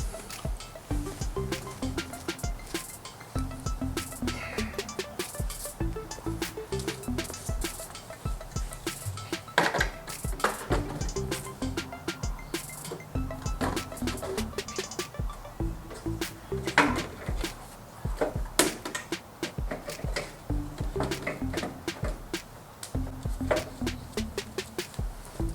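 A new bumper is fitted onto a Porsche by hand, with a near-constant stream of close clunks, taps, rattles and plastic knocks in an irregular rhythm and no voices.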